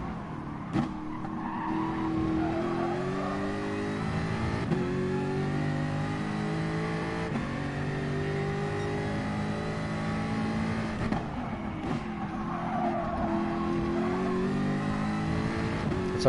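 A race car engine revs hard around Bathurst in a racing video game, a loud sustained high whine rising and falling with gear changes and brief tire squeals, continuous with no talk.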